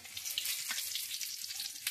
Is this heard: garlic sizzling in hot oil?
yes